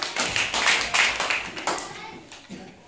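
Children clap their hands during a classroom chant game, several quick bursts of close claps with a voice speaking over them.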